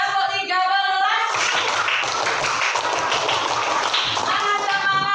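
Children clap their hands together in a classroom clapping game, a dense burst of many claps filling the middle of the clip, with sung or chanted voices before and after.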